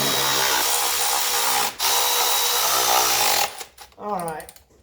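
Power tool snugging down 13 mm bolts during general maintenance on a 1985 Mercedes 300SD, a loud steady whir that cuts out briefly, resumes, then gives way to short stuttering bursts near the end.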